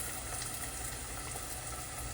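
Battered pickles fry in oil that has cooled slightly after a first batch, giving a steady, soft, even bubbling sizzle with no talk over it.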